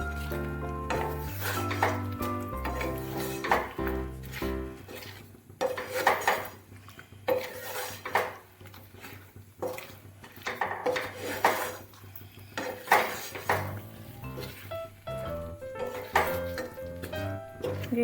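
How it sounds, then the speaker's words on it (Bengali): Fried chicken pieces being stirred into a thick chili gravy thickened with cornflour, with repeated metal spoon scrapes and clinks against the pan in an irregular rhythm at close range. "এবার এতে ভেজে রাখা চিকেন দিয়ে দেব। দিয়ে গ্রেভির সাথে ভালো করে মিশিয়ে নেব।"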